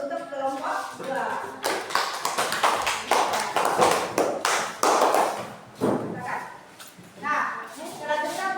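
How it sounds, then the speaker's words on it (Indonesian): A group gives a round of applause for a presenting team, group 2: several seconds of dense, close hand-clapping, with talking just before and after. "kita beri aplaus untuk kelompok 2"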